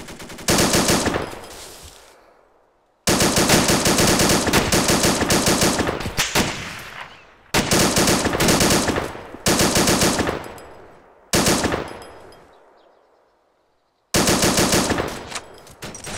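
Automatic gunfire in the video game Arma 2 during a co-op battle, loud sustained bursts of several seconds each separated by short silent gaps, close and dominant with no talk.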